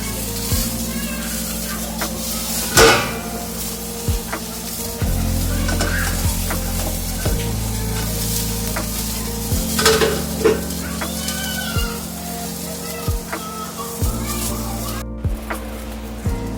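Eggplant slices frying in a little oil, a moderate sizzle running beneath steady low humming background noise, with clinks of utensils and pans and a few knocks throughout.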